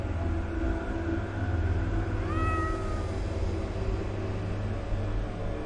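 A hungry-looking cat meows once, a short rising-falling call over a steady low rumbling ambience in the video game The Excavation of Hob's Barrow, down in a dark underground place.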